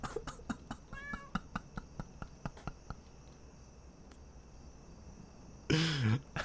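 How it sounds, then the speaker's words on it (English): A cat in a Halloween manor horror video game lets out a string of short, bright meows in quick rhythm, then a longer, louder drawn-out meow near the end, with no talk over it. "I like how the cat talks."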